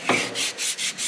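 Emery cloth rubbed over a metal surface on a Deere 700J dozer undercarriage part during a rebuild, giving a few quick, close scratchy strokes in a short burst.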